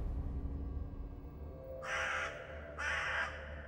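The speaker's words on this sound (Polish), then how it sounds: "Kolejne kruki." Ravens caw twice in the video game Bad Dream: Coma, two loud harsh calls about a second apart over a low rumbling ambient background.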